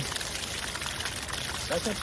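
Water pouring steadily into a 5-gallon bucket, a constant rushing splash filling the background while someone speaks briefly over it.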